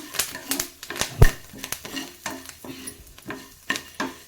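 Sambar seasoning of coriander leaves and curry leaves fries until crisp in a pan while a spoon stirs and scrapes in quick rhythmic strokes, a close crackling sizzle under the clatter of stirring.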